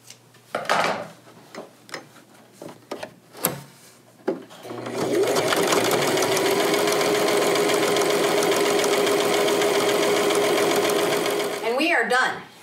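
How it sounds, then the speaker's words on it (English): A sewing machine runs a long continuous stitch along the top edge of a fabric wrap skirt, steady and close for about seven seconds after a few scattered handling clicks, with a short burst of talk at the end. "I'm going to go ahead and make a stitch all the way along this top edge"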